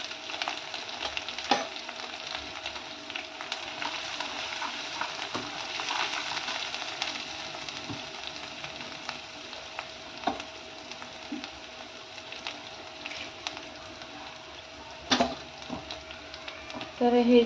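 Methi and other chopped greens with a pinch of turmeric sautéing in a pan, a steady close sizzle with occasional scrapes and light clinks of a spoon throughout.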